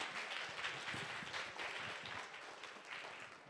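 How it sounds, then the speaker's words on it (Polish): An audience at a panel discussion applauds, a dense, steady wash of many hands clapping at moderate distance that holds evenly for the whole stretch. "Jak najbardziej zasłużone brawa."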